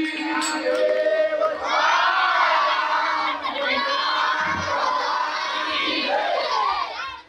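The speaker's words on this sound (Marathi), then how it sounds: "सगळ्यांनी एकदा हाताने टाळी मुखाने नामस्मरण करा" A kirtan crowd in a village chants loudly and continuously with cheering voices, a dense, near wall of many people sounding together. Clapping cannot be picked out clearly.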